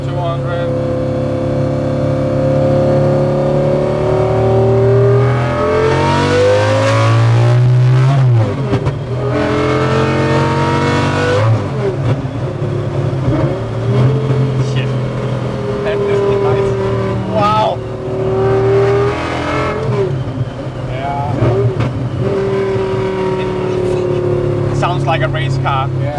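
A Volvo car engine revs loudly and repeatedly, pitch climbing and dropping through gear changes around 4,200 RPM in third gear, with people talking over it.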